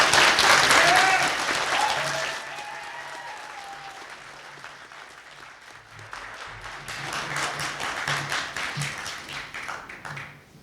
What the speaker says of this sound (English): So far, you've got the largest cheering section